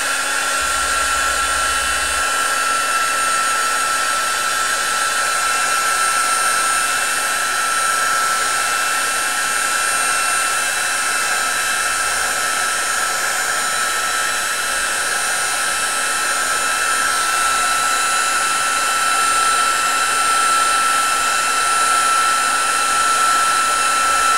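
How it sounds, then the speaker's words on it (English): A heat gun blows with a steady, loud whooshing roar and a thin high whine, running continuously without a break. "I'm just going to use my heat gun. Please bear with the noise here"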